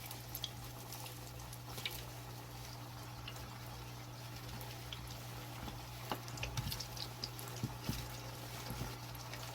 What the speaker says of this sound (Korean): 한 5분 정도 튀기셔야 돼요.